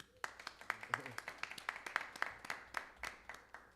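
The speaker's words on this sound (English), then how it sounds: "Clap it up for him, man." Sparse, rhythmic clapping from a small audience at a live talk: individual hand claps ring out in a steady beat, close and distinct, with a voice briefly heard underneath.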